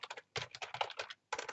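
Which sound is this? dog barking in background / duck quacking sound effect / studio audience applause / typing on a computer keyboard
typing on a computer keyboard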